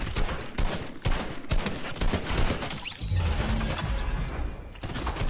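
Rapid bursts of automatic gunfire in the video game Fortnite, loud and close, crackling in dense volleys with brief gaps, then a heavier thudding stretch near the end.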